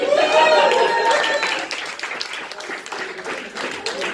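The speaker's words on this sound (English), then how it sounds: "Get a big round of applause here" Applause from an audience at a Halloween show, loud at first and tapering into scattered clapping and crowd noise, with a voice briefly audible over it.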